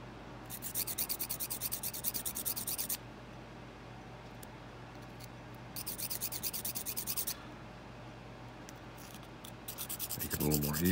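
Pencil lead rubbed on its side to shape a chisel point for drawing: two bursts of soft, raspy scratching strokes, close and quiet, separated by a pause with faint background hum.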